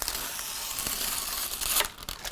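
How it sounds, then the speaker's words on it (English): Scissor tip scoring a lined baking sheet, a steady papery scratching and crinkling that runs continuously, with a sharper tearing rasp near the end; close and fairly loud, no talking. "use the tip of your Jiggly scissors to score it."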